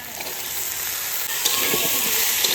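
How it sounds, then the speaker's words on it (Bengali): Potatoes and peas fry in hot oil in a pan, giving a steady, loud, close sizzle with faint stirring scrapes and no talking. "এবার আলু মটরশুটিটা দিয়ে দেবো"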